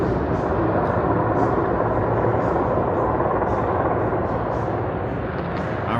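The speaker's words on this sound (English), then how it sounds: "hopefully you can see a helicopter." A helicopter flies overhead along the north end of the Las Vegas Strip in the morning, giving a steady, broad rotor roar that holds loud and unbroken for several seconds with no speech.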